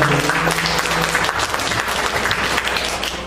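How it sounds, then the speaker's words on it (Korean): Sustained applause from a lecture audience during a humanities talk on Joseon palaces, steady and fairly loud throughout, with a few voices faintly mixed in. "박수 한번 치가요."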